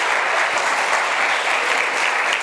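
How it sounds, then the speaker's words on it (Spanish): Church congregation applauding, a dense steady wash of many hands clapping at close range for a couple of seconds with no break. "¿Cuántos le dan un aplauso al Rey de Reyes y Señor de Señores?"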